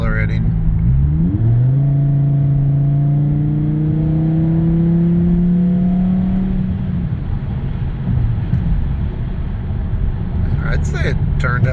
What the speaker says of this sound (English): We got a little bit of like a garble while it's accelerating.